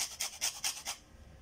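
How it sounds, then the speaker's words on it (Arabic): Lemon peel being zested on a grater: about five quick, crisp rasping strokes in a steady rhythm, close and fairly soft, lasting about a second. "انا غادي نحكها هنايا هاد الحامضه"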